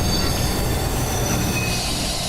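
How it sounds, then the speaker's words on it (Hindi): A cartoon passenger train slows into a station, its wheels squealing steadily on the rails in a continuous, loud metallic screech with a rumbling undertone and no pauses. "अजीत तभी बाहर देखता है ट्रेन स्लो होकर रुक चुकी है।"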